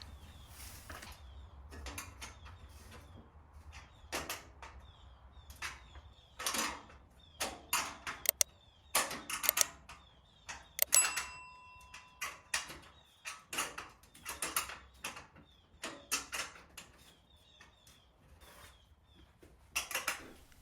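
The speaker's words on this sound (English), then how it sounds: "Got a box wrench here, and I'm tightening all the panels." A box wrench tightens the metal panels of an outdoor gas fireplace during assembly, giving irregular bursts of clicking ratchet-like ticks and metallic rattles, close up, separated by quiet pauses.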